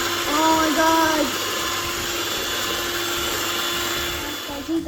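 An electric mixer whirs steadily through brownie batter, a loud continuous motor drone that holds through the whole stretch and dips slightly near the end, with a voice talking briefly over it.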